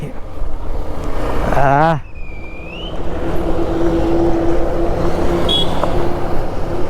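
A Hero Xpulse 200cc adventure motorcycle being ridden, its engine droning steadily with wind rush, a brief rising rev and a short drop near the middle, then continuing under a rider's talking close by.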